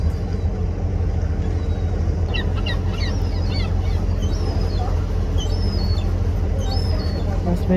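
Black-headed gulls give scattered high, squealing calls over a steady loud engine and water rumble aboard a Seine cruise boat, the cries coming in brief clusters at moderate distance.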